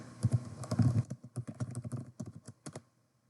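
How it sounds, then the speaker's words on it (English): A computer keyboard clatters as a search topic is typed into a library database: a quick, uneven run of close keystrokes that stops abruptly, with no speech. "Let's type in our topic, women's suffrage movement."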